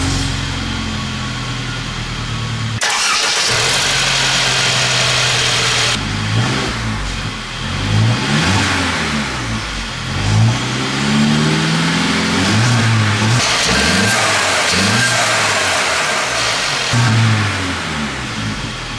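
A 2016–2017 Mercedes-Benz GLC 300 SUV with a 2-liter four-cylinder direct-injection turbo engine revs loudly and up close, several rising and falling sweeps of the engine note repeating over a steady running hum.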